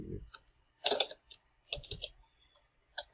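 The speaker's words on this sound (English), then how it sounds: "So we can type Cajun here." Keystrokes on a computer keyboard as a search term is entered, arriving in short clustered bursts of clicks with gaps between, fairly close and quiet, with no talk.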